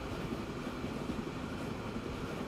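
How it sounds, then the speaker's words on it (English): A train running in Transport Fever 2, a steady low rumbling roll of wheels and carriages, continuous and moderately faint with no talking. "Man, I love riding trains in this game."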